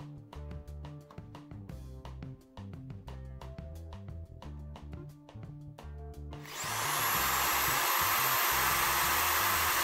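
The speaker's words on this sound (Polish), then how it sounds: "Ta suszarka ma 1000 W." A 1000 W hair dryer powered through a 3000 W pure sine wave inverter switches on partway through and blows with a loud, steady broadband whoosh, replacing a rhythmic tapping hum heard beforehand.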